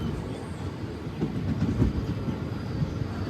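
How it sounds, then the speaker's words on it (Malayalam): Nagaland Express train pulling into Simaluguri Junction, a steady low rumble of wagons rolling on rails with faint clatter, heard close and continuous throughout. "ട്രെയിൻ ഇപ്പോൾ സിമിലിഗുഡി ജംഗ്ഷനിലേക്ക് ഇതാ എത്തുകയാണ്."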